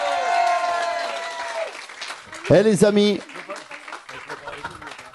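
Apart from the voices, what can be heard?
studio audience applauding two artists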